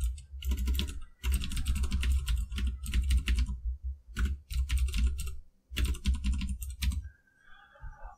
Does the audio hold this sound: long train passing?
no